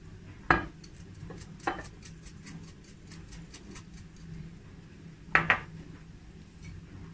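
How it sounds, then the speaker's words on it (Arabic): Keto salad dressed with olive oil and apple cider vinegar being tossed in a bowl, giving a few sharp utensil clacks against the dish spaced across a quiet background, with no talking. "وأقلب المكونات كلها مع بعض زي ما احنا شايفين كده"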